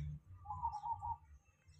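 A perkutut (zebra dove) gives a single short cooing phrase, a soft rolling trill heard fairly close against quiet low background rumble.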